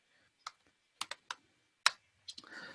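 Close, crisp computer keyboard keystrokes typing a short command, about eight isolated clicks in uneven bursts with one sharper strike, ending in a quick flurry of softer taps.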